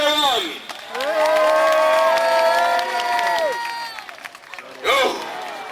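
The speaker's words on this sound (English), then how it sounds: "Ladies and gentlemen, cheer him on!" Spectators at a historical reenactment festival contest cheer and shout, a burst of raised voices and whoops rising for a few seconds, fading, then flaring again.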